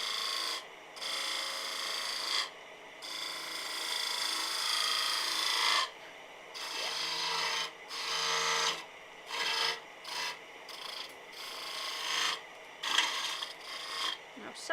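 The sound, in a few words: wood turning with a spindle gouge on a lathe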